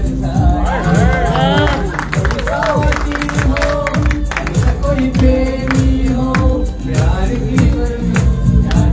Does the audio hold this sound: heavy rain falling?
no